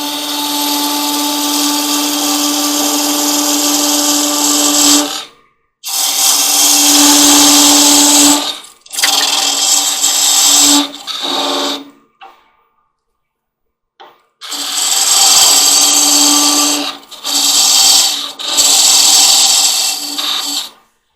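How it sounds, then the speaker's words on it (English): A parting tool cuts down into wood spinning on a lathe while a long-stem goblet is turned. A loud, steady high-pitched grinding whine comes in long bursts, broken by short pauses and one longer silence. "we'll take the parting tool and just part down a little ways to define that bottom edge"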